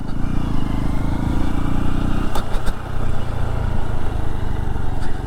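A loud engine drones steadily up close, a Honda motorcycle cruising along a dirt road, with a brief change in pitch partway through and no talking.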